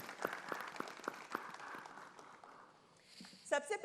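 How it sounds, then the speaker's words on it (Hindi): Audience at a televised Mumbai election debate applauding, with faint scattered clapping that fades out under a speaking voice. "जोरदार तालियां जनता के लिए।"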